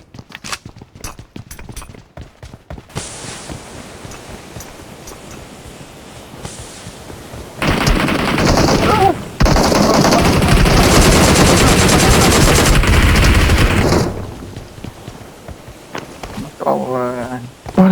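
PUBG Mobile gunfire crackles through a tournament match: scattered single shots at first, then long sustained bursts of automatic fire that dominate the middle, with players talking over the game sounds.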